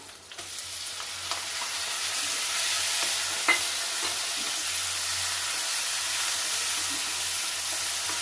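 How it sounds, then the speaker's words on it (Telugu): Tomatoes frying in a pan for a bottle gourd curry give a steady, close sizzle and hiss with a few faint stirring clicks. The sizzle builds slightly early on, then holds at an even level with no voices. "ఇప్పుడు టమోటా వేస్తున్నానండి."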